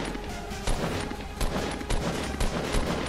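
Gunshots ring out in a Fortnite Battle Royale match, several distinct sharp cracks spaced across a few seconds over a constant noisy game background.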